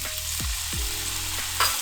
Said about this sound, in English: Now we're gonna go ahead and cook our 1 tomato, 1 jalapeno.